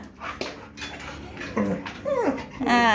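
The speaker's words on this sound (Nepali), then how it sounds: "यो अर्को कुकुरको बच्चा हो" A puppy whimpers close by in short, high, wavering whines that rise toward the end, with faint rustling and light clatter around it.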